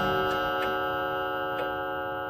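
Steady clock ticking in the horror video game The Lost Fear, a regular tick-tock heard alone with a soft low background hum and no talking.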